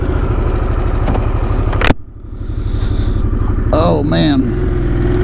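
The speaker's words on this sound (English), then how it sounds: "All right, here we go on the maiden voyage on Sportster S." A 2021 Harley-Davidson Sportster S engine rumbles loudly nearby, its low throbbing pulses cutting out abruptly midway, then building back up as someone talks over it.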